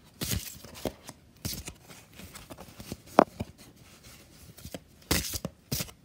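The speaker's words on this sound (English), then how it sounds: "I'm going to just go ahead and shuffle these cards again" Oracle cards from a unicorn deck being shuffled by hand, giving a scatter of soft, brief riffling and rubbing bursts at close range with gaps between them, one sharper snap partway through.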